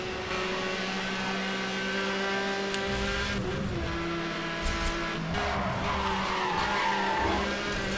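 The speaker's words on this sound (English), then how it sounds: "Car kicks out a lot when it drifts." Continuous loud tire skidding from a drifting car in Need for Speed Hot Pursuit Remastered, the squeal rising and falling through the corner over a constant engine roar, with a few thuds and no talking.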